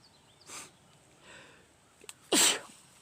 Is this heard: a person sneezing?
yes